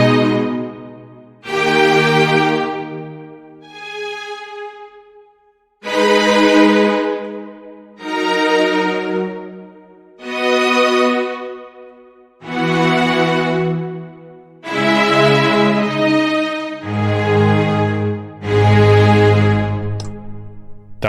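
Sampled orchestral strings from Strezov Sampling Afflatus play a series of full, sustained tenuto chords, each held then released, with short pauses between phrases; soft, smooth and spacious.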